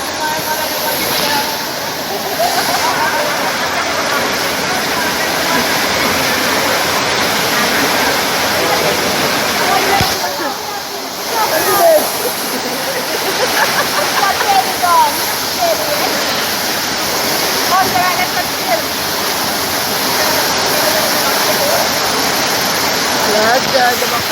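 Somerset Falls roars as a steady, loud wash of broadband water noise, continuous for the whole stretch with only a brief dip midway.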